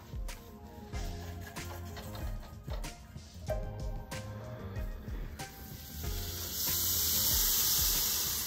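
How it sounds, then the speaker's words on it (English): Liquid nitrogen boiling off in open air during a chemistry demonstration gives a steady hiss with irregular crackles and clicks, ending in a louder continuous rush. "That's actually just the nitrogen boiling off from the warmer air around."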